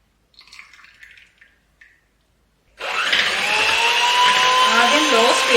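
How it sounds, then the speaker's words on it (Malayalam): Faint clinks and taps give way to an electric beater starting up and whirring steadily, close and loud, as it whips a cup of whipping cream. "ഇതിപ്പോൾ 1 കപ്പ് വിപ്പിംഗ് ക്രീമാണ്, അത് നമ്മൾ ബീറ്റ് ചെയ്യാൻ വേണ്ടി പോവുകയാണ്."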